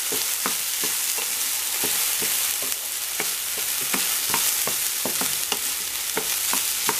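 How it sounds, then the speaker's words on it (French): Washed, drained rice stirred in a hot pan for mozzarella arancini, a loud continuous sizzle broken by many sharp scraping spoon strokes in an uneven rhythm, no talking. "J'introduis maintenant le riz que j'ai lavé et égoutté"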